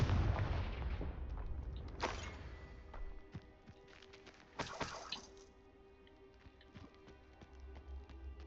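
The Confringo blast curse fires in the Hogwarts Legacy video game, giving a few sharp explosive bursts and cracks over a low rumbling backdrop, with quieter debris-like clatter between them.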